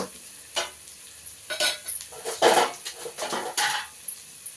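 Coriander leaves and chopped banana stem fry in a pan, a soft sizzle under repeated scraping strokes of a spoon stirring against the metal, close and fairly loud.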